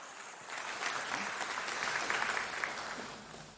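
Audience applause at an evening conference on African development, a steady broadband clapping from a full room that swells after the first half second and holds for several seconds with no talk over it.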